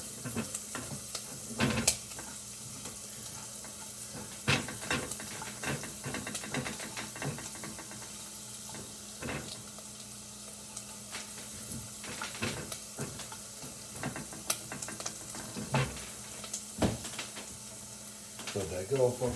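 Chunks of garlic sizzle and crackle in a hot pan, a steady frying hiss punctuated by sharp stir and spatula clatters, with no one speaking over it.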